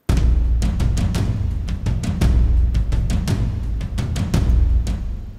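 Layered drum parts for the Game of Thrones theme, built in Logic Pro with a kit panned wide, play a steady, loud pattern of booming low hits and sharp cracks, continuous for the whole stretch with no talking.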